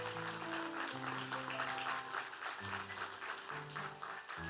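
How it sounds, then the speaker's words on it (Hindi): An audience claps for the children, a steady, dense applause that runs the whole time with sustained tonal music underneath. "एक बार सारे बच्चों के लिए ताली जरा बजाइए प्लीज।"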